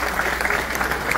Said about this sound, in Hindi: वो भी अपना आसन ग्रहण करें मंच पर जोरदार ताली से स्वागत करें।